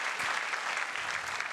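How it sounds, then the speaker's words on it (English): A studio audience at a couples' game show claps loudly and steadily, a dense, continuous wash of applause without any talking. "please put your hands together and give them a huge round of applause"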